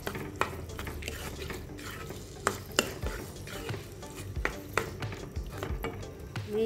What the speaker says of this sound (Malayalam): നെയ്യിൽ കിടന്ന് നല്ലപോലെ ഒന്ന് മൂത്ത് വരട്ടെ.